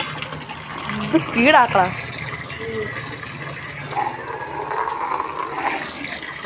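Water pours and gushes into a container being filled, a steady rushing wash that swells in the second half while people talk over it nearby.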